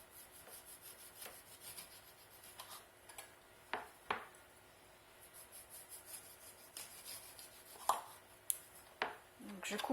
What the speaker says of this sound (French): on va couper une orange en quartiers.